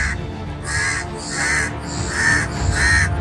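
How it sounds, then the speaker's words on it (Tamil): A crow caws four times in a steady rhythm, each call loud and harsh, with faint background hum between calls and no talking. "காகம் கரைவதை பாருங்களேன்."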